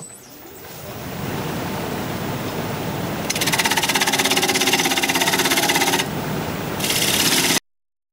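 A wood turning gouge shapes the outside of a bowl on a lathe, producing a continuous rasping scrape that swells louder in stretches and drops back between passes, close and steady with no talk.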